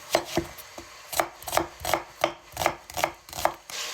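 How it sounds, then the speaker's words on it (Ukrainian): A knife chops onion on a cutting board in a home kitchen, about nine crisp, evenly paced strikes that are close and clear, with no talking. "Нарізаю цибулю"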